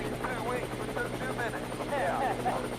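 A US helicopter on a feral hog hunt, its rotor thumping in a steady rapid pulse throughout, moderately loud, while a voice narrates over it.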